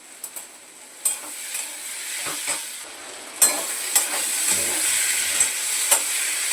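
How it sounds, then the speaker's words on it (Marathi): Onions sizzling in a hot pan for a chicken dish, with occasional clinks and scrapes of a spoon, a steady hiss rising midway, no talking. "कांदा परतून झालाय तर काढून घेणार आहे"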